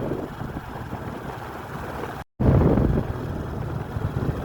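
Storm wind during heavy rain roars steadily, buffeting the microphone in a dense, loud rush with a brief dropout midway, then surging stronger afterward; no talk.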